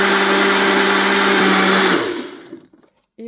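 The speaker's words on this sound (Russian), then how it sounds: "Выручает блендер Айкок." An Aicook blender whirs loudly and steadily with a high motor whine, then spins down and stops abruptly after about two seconds, leaving brief clicks and near silence.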